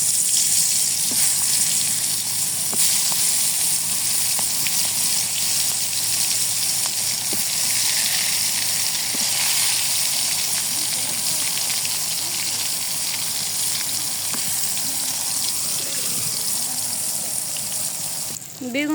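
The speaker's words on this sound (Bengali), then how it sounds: "তেল গরম হয়ে গেছে, এখন আমি বেগুন দিয়ে দিই।" Eggplant slices frying in hot oil in a wok, giving a loud continuous sizzle and hiss with small pops that holds steady throughout and fades slightly at the end.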